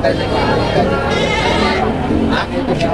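Goats bleating at a crowded livestock market, calls rising over constant loud chatter and talk from many people nearby.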